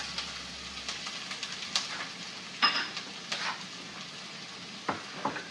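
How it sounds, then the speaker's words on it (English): Onions fry in a hot pan with a steady, close sizzle and hiss, broken by a few sharp clinks and scrapes of stirring. No one speaks. "you're going to fry the onions until they're soft"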